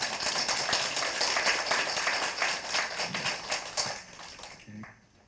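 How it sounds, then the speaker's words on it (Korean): An audience at a Catholic retreat talk breaks into dense, continuous clapping that carries on at a steady level and then fades out toward the end, with no voices over it. "여러분들 박수 한번 쳐봐요 진짜"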